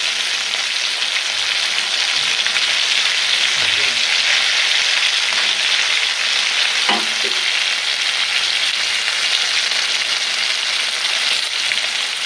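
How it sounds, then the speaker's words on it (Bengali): Continuous close sizzling of chicken frying in a pan, a steady bright hiss with a few faint clinks of stirring, no talking. "মুরগিটা আমার একটা মশ মশা করে ভাজা ভাজা হয়ে গেছে"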